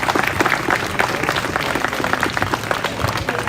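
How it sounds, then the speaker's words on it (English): A crowd claps for a performer named Yash at a live event, loud close clapping with distinct individual hand strikes over a dense steady background of applause. "So again, a round of applause for Yash"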